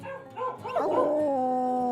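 Hounds on a rural Appalachian porch break into a single rising, drawn-out howl, close and clear, that climbs and then holds a steady wavering pitch.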